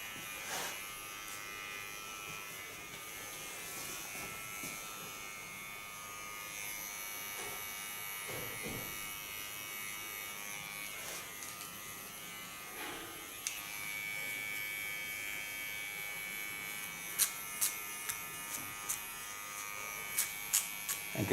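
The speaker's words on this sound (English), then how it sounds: "With my small clipper, I clean the contour." A small electric hair clipper buzzes steadily and close by while cleaning up the hairline contour of an ultra-short pixie cut, with a few sharp clicks near the end.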